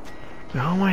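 A horse in the video game Red Dead Redemption 2 gives a loud, close whinny that rises and falls over the last half second, following a stretch of quiet ambient background.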